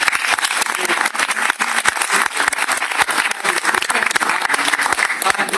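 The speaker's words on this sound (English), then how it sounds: "Give them a big round of applause" Loud, dense applause fills a room as a crowd at a Georgetown University farewell gathering claps for local neighborhood commissioners, with sharp individual claps standing out and a few voices mixed underneath.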